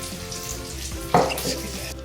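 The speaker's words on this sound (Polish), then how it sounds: "No i smażymy jajeczka" Eggs beaten with milk and flour sizzle steadily in a pan with sausage, with a brief louder crackle and clatter partway through, then the frying continues.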